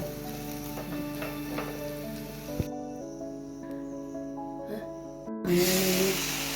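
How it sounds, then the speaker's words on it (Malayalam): Spices sizzling in a pan under steady tonal background music, the sizzle cutting out midway and returning louder near the end. "ഇനി മസാലകളെല്ലാം ഇതിനകത്ത് ഇട്ട് മൂപ്പി ഇത് പുരട്ടിയെടുക്കണം."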